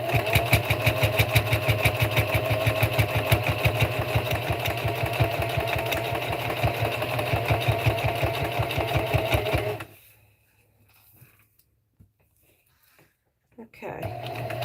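A sewing machine stitches slowly while its bobbin gives trouble, a loud, close, evenly pulsing whir that runs for about ten seconds, stops for a quiet gap, then starts again.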